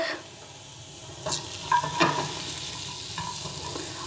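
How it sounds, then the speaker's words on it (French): Mushrooms sear and sizzle in a pan while being stirred, a steady hiss of frying underneath with several sharp scraping and clinking strokes of the utensil against the pan in the middle, close and moderately loud. "Je mélange un petit peu les champignons. Je veux les saisir."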